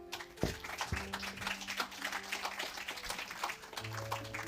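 A congregation applauds Reverend Blair Tabor at a service. The soft, diffuse clapping spreads through the room and blends with sustained musical tones and low hum.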